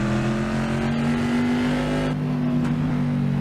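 Trans Am race car engines at Laguna Seca in a sim racing game, a loud sustained engine whine with steady pitch and slight shifts, close and continuous with no talk.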